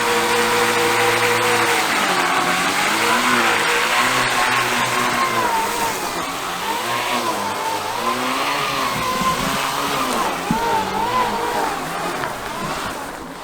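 A UBCO 2X2 electric two-wheel-drive bike at full acceleration, its motor whine rising and falling in repeated wavering sweeps, loud and close, with wind and road noise beneath.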